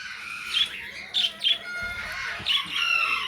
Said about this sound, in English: It's a tiny baby parakeet.